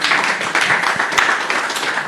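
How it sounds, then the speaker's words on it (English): At a summit panel, the audience applauds a speaker, bringing a brief burst of close, moderately loud clapping with some distinct individual claps. "guys, a round of applause for Eddie, please"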